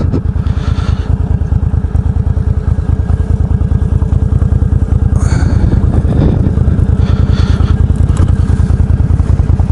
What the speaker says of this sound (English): a lot easier climbing this hill on a motorcycle than it is in a car